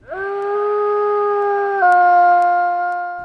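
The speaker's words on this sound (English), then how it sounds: "the story on the perfect wolf call" A wild wolf from the Voyageurs area gives a single long, steady howl, loud and close, holding one tone before dropping slightly in pitch near the end, with no other sounds around it.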